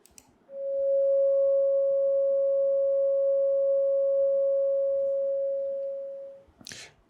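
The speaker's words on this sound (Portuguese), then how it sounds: "Vamos escutar primeiro a onda senoidal." A steady, pure electronic tone holds at one pitch for about six seconds, then fades out, followed by a brief faint noise.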